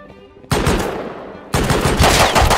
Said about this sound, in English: I missed every shot besides the last one